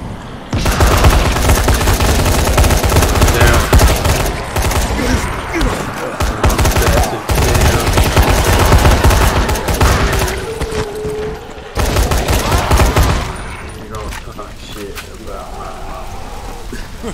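Pistol shots crack repeatedly in Dying Light, loud rapid bursts stacked closely together over long stretches, broken by brief pauses, with voices talking over the gunfire.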